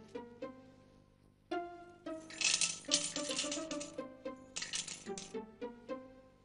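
Coins poured from a bag into a jar, a cascade of clinking metallic chinks that swells into a dense jingling rush, then thins to scattered single coins settling, close and quiet with no talk.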